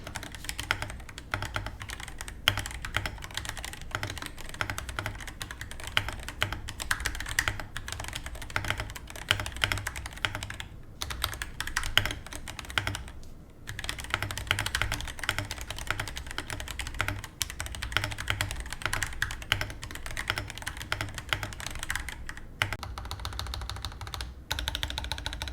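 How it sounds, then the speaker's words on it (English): Typing on a budget wireless mechanical keyboard fitted with stock Gateron Silver linear switches: a fast, steady stream of crisp keystroke clacks, close and loud, with occasional brief pauses and no talking. "Now time for the typing test. This board is completely stock with stock Gateron silvers."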